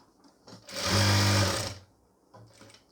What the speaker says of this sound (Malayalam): ഇവിടെ കുത്തി നിർത്തി താഴേക്ക് സ്റ്റിച്ച് ചെയ്തെടുക്കുക